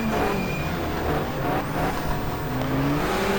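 BMW touring cars in a 1994 Asia-Pacific Touring Car Championship race, engines roaring loudly and continuously with high revving tones, cars close by with no gap between them.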